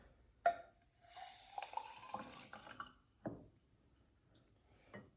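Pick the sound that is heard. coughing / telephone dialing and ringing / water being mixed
water being mixed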